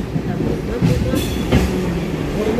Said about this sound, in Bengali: আস্তে আস্তে ট্রেন চলছে রে বাবা।